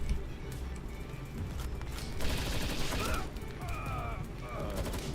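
Rapid gunfire bursts from the video game Palworld crackle continuously through the whole clip, mixed with game effects and chirping tones, while a voice talks over the shooting.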